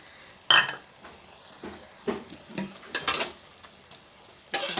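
A utensil scrapes and knocks intermittently against a pan while leafy greens and ground rice paste are stirred together over heat. The sharp, close taps come in irregular bursts over a very faint background sizzle.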